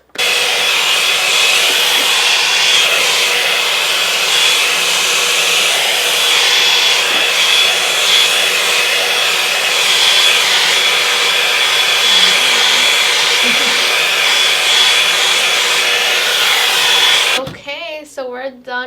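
A Revlon Plus hair dryer brush runs on its highest heat setting, a loud, steady, close-up whooshing blast that holds unbroken for about seventeen seconds before cutting off abruptly.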